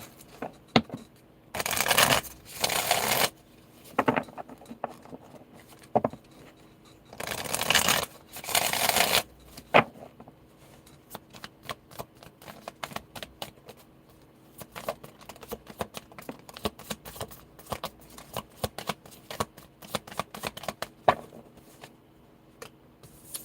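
Tarot cards being shuffled by hand, with a few longer riffling bursts early on followed by many light, scattered card taps and flicks.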